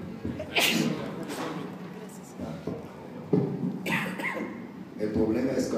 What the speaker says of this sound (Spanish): con el micrófono tienen que escuchar mi tos todo el tiempo